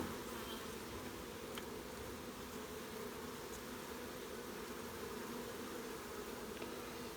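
A steady, dense buzzing of many bees inside a mini nuc hive box close by, continuous and even throughout with no voices.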